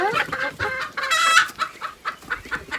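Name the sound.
chickens clucking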